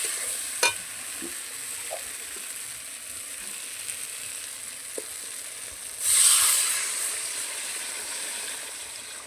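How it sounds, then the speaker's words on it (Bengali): Spice paste for a bata fish and ridge gourd curry fries with a soft steady sizzle and occasional light taps, then water poured in sets off a loud, bright hissing surge that slowly fades back. "এই যে আমার মশলা কষা হয়ে গেছে এবার আমি জল দিয়ে দেবো"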